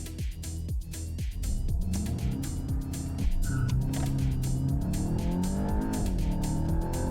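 A red Volkswagen Golf GTI, a 261 BHP hot hatch, launches hard on the NATRAX test track, its engine revving up through rising, repeated gear sweeps into a loud sustained roar, close by, with no talking.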